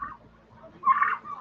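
Turkeys give a short, mid-loud gobble close by on a farm where a pair of turkeys are kept among hens, the call rising briefly after a quieter stretch.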